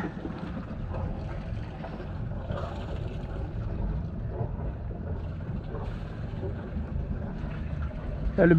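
A low, steady boat engine rumble mixed with wind and water noise continues throughout as the boat leaves Alicante harbour, close by and fairly loud.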